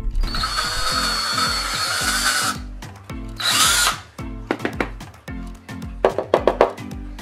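A handheld power drill bores holes in wood with a close, loud whine. A long run is followed by a shorter burst, then several quick start-stop pulses and clicks of the trigger and chuck.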